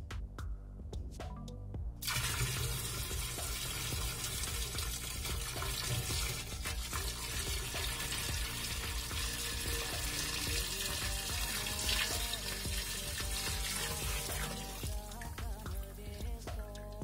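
Colored liquid poured steadily into absinthe in a glass, a continuous splashing, trickling pour heard close up and alone for most of its length after a brief quiet start.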